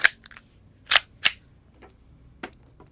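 An Umarex VFC G19 Gen 4 airsoft pistol fires several sharp, snappy blowback shots, three close together near the start and two more spaced out later, with short mechanical clacks between and no talk.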